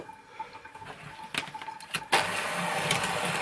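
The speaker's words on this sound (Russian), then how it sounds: "Включаем миксер." Electric hand mixer switched on to whip cream for cake decorating: after a few quiet clicks and handling noises, it kicks in with a sudden steady whir that continues evenly to the end.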